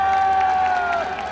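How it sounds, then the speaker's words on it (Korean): A crowd applauds and cheers at an outdoor presidential election campaign rally held at the Banghak intersection in Seoul, a short, steady burst of clapping and voices alongside a sustained tone from the sound system. "큰 박수 부탁드리겠습니다."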